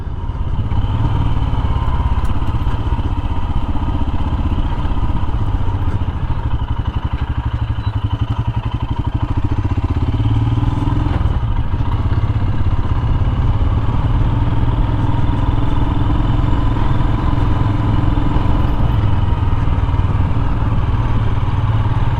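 A Royal Enfield Himalayan motorcycle rolls along a narrow downhill lane, its engine a steady, loud, close drone with clattering mechanical noise and no talk.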